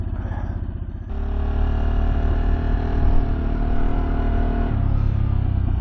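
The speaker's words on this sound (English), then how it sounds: "that engine brake is immense" A 2024 Harley-Davidson Sportster S motorcycle engine braking, a deep rumbling drone that drops then steadies, loud and close with wind noise, no talk over it.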